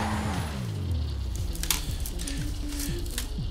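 A car driving in the video game GTA 5 Online, its steady engine drone shifting in pitch as it turns, with faint scattered noises above; no one speaks.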